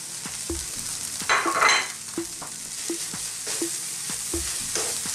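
Carrots drop into minced chicken browning in a hot pan, a steady sizzle broken by short scraping stirs and a louder burst of frying as the pieces hit the oil.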